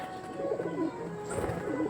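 A female pigeon of a red-eyed Andhra breed coos softly nearby, a couple of low, throaty rolling calls in under two seconds over a quiet background.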